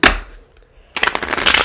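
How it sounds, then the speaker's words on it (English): Tarot cards are shuffled by hand in a quick riffle, with a short burst of crisp flapping at the start, a brief pause, then a longer loud stretch of rapid card slaps close by. "Yeah, let's shuffle those back"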